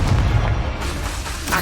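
Confringo spell explosion in Hogwarts Legacy, a loud, deep booming blast filling the short moment with heavy low rumble.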